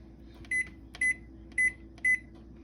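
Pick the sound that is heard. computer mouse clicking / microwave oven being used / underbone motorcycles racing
microwave oven being used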